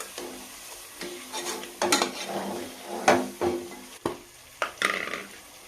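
Country chicken pieces with tomato frying in oil in a pan, with repeated stirring scrapes and clinks of a utensil against the pot over a steady sizzle, close up, no talking.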